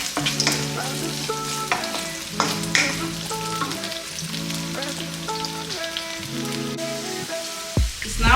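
Green peas, added after carrots, sizzle steadily as they are stirred and fried in a pan, with the spatula clinking and scraping repeatedly throughout, loud and close, with no voices.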